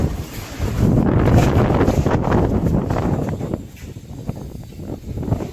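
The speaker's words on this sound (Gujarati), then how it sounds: "પવન ફૂલ આવે છે એટલે મારા અવાજમાં જરાક જોઈ શકો" Strong wind buffets the microphone in an open parking area at the Manas Hanumanji temple in Kutch, a loud continuous rumbling roar that eases slightly toward the end.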